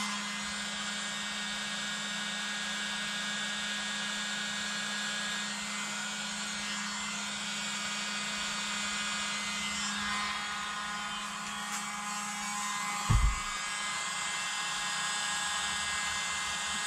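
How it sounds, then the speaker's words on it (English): A tiny electric blower used for Dutch pour painting whirs steadily and close for the whole stretch, with a brief knock partway through. "I'm gonna use the blower."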